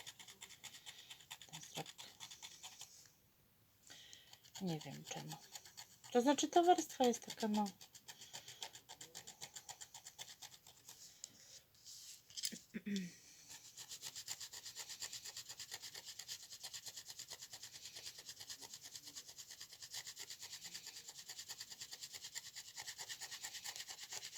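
Scissors scrape a Polish lottery scratch card with a pink diamond design, giving a steady, quiet, close rasping that runs throughout, with a few louder strokes early on and a voice speaking partway through.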